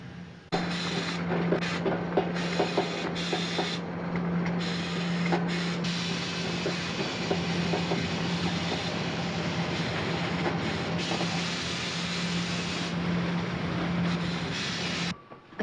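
A long freight train rumbles steadily past at close range in Australia, with a continuous low drone and rattling wheels for the whole stretch, no voices.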